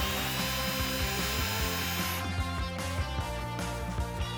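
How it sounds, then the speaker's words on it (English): A power drill bores a half-inch hole through the battery cover of a Can-Am Defender side-by-side, giving a loud, continuous whirring grind with a steady pitch that shifts partway through. "Drill a 1/2 inches hole on the battery cover."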